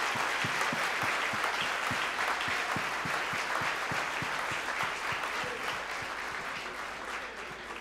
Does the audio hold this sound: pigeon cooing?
no